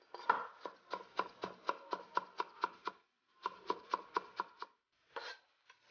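A knife slices scallion whites on a cutting board in quick, evenly spaced chops, a rapid run of about a dozen crisp knocks, a short pause, then another run and a few last cuts, close and clear with no talking.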